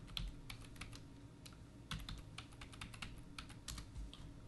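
Typing on a computer keyboard to enter parts and labor for replacing an alternator, quick irregular bursts of light key clicks close by over a low background hum.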